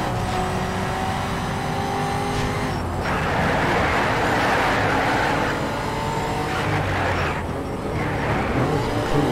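Race car engines in Need for Speed Shift on Xbox 360, loud and continuous with rising revs, gear changes and brief dips as the cars push along the track.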